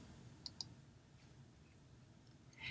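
A computer mouse gives two quick, faint clicks close together near the start, followed by soft quiet background and no speech.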